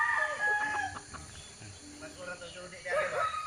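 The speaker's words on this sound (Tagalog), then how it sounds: "Fighting cock from the Philippines." A prize Ormoc Gold fighting cock from the Philippines, a five-time derby winner, crows and clucks nearby, and voices talk over it.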